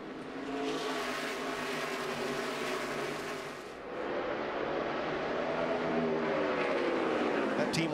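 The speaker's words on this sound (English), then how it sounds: "XSE pace car hits pit road." A NASCAR XSE pace car drives pit road during a 2017 race, its engine droning steadily at moderate speed, rising slightly in pitch near the end, with a voice talking over it.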